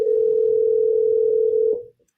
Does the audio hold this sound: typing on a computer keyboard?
no